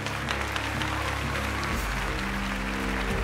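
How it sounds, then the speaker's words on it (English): An audience applauds a volunteer called up from the crowd at a live stage magic show, with steady dense clapping filling the whole stretch under some background music. "Give her a round of applause."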